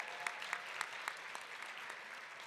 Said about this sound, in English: Give yourselves a round of applause to the most recent group.